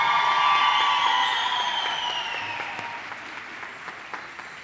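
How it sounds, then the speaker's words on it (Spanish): An audience at a school Mother's Day festival claps along to a samba, giving loud, continuous crowd applause with some cheering, while a sustained tone fades underneath. "¡Que se escuchen esas palmas!"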